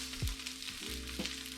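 Birria taco tortillas searing in a pan give a soft, continuous sizzle with a few scraping and handling knocks, faint and close, with no one speaking.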